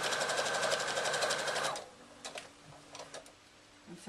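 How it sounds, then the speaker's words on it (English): A sewing machine stitches across the top of a handbag with straps sandwiched inside, a loud rapid mechanical whirr for under two seconds, then stops, leaving faint handling clicks and rustles. "So I'm sewing all the way across the top, sandwiching those straps in between."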